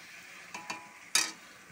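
Prawns dropped into a hot frying pan, with a short burst of bright sizzle after a couple of faint clinks, fairly quiet and close with no talk.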